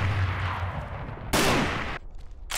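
Sniper gunshots in the Call of Duty DS video game sound as one sharp, loud blast cutting through steady game noise, followed by a short trailing report.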